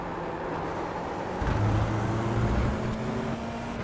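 Race car in the iRacing sim driven on a feathered throttle while overtaking a back marker, a steady engine drone with a louder, rising tone in the middle stretch, alone without talk.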